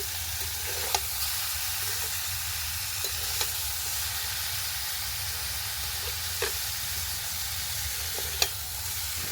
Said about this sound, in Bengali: মাছগুলো একটু নেড়ে নেব, যেহেতু আমি ঘন্ট বানাবো তাই খুব বেশি ভাজবো না, হালকা ভেজে নেব।